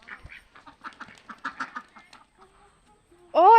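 A duck gives a loud, close, nasal quack right at the end, after a stretch of softer, rapid chattering calls.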